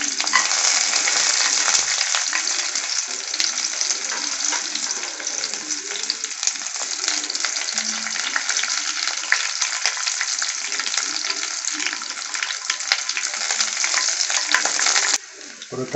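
Shallots, curry leaves and cashews fry in hot oil, an intense, steady, close sizzle with faint stirring, stopping abruptly at the end.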